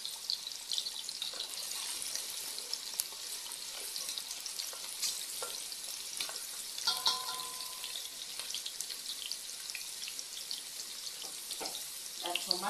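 Cabbage is added to a pan of Ugandan-style sausage sauce and fries with a soft, steady crackling sizzle, joined by occasional stirring clinks and scrapes across the whole stretch, with no talking.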